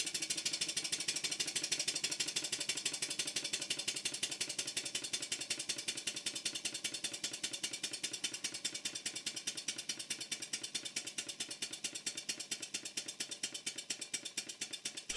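A small model steam engine running on compressed air and driving a generator chuffs in a fast, even mechanical rhythm, a quiet, continuous ticking beat that slows slightly over time.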